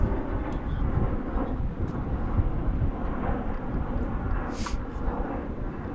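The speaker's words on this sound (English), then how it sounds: "A220 about to depart." An Airbus A220 jet departs DFW airport, its engines giving a heavy, continuous rumbling roar that carries across the field, loud and steady with a brief high hiss near the end.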